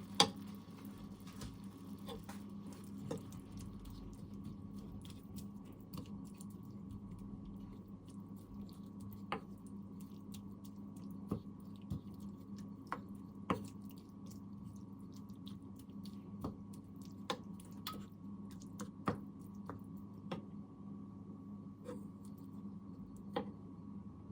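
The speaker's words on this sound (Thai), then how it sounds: "แล้วเราก็จะเอาแหนมลงคุกด้วยนะ เพื่อที่จะให้เขาสุกนะ" Fermented Thai pork (naem) cooking in a pan gives a soft, steady sizzle with scattered faint pops and crackles throughout, quiet and without talk.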